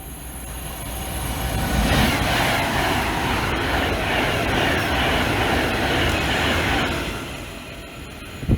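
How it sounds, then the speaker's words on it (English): A Pendolino train roars past close by at Nuneaton, a sustained loud rushing rumble with wheel noise that swells, holds for several seconds, then fades slightly at the end. "just time for one last Pendolino to say goodbye"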